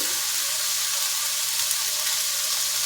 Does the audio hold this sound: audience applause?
no